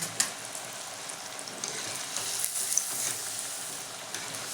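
Kebab pieces sizzle and crackle in hot frying oil, a steady close hiss with small pops and spatters throughout.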